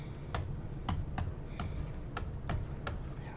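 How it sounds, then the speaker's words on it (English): Calculator buttons are pressed one after another to work out a division, giving about a dozen light, close clicks at an uneven typing pace over quiet background, with no voices. "let's get our calculator out and let's divide"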